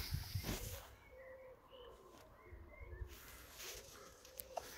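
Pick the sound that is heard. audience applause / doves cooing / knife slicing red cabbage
doves cooing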